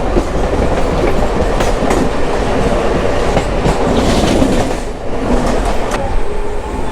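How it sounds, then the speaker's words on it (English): A Mumbai local commuter train rushes along with its doors open, producing a loud, continuous rumble of wheels and rattling carriages with faint clacks and wind noise throughout. "The classic Indian train ride."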